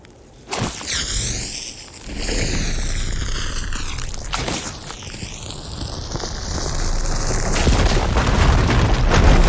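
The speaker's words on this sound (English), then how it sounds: "Should be able to blow up that fire gleam." A firegleam blows up in the video game Horizon Forbidden West, a loud booming blast followed by a swelling, sweeping roar and rumbling debris that builds and sustains over several seconds.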